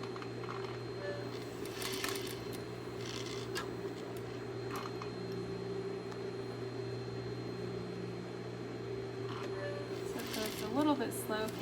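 A sewing machine stitches slowly around a fabric cylinder, its steady low motor hum running under occasional handling noises and rustles, close by.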